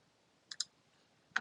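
Computer mouse clicks while building a page in Google Sites: a quick double click, then one slightly louder single click after a short pause, crisp and close in a quiet room.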